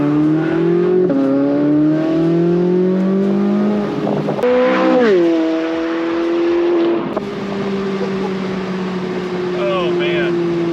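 A 2023 Chevrolet Corvette Z06 accelerates hard, its engine note climbing through several gears with sharp shifts, loud and close, steady and strong over about ten seconds. Voices can be heard faintly in the background.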